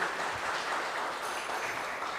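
Brief, fairly faint applause from an audience during a live-streamed talk, an even patter of clapping throughout with no talking over it.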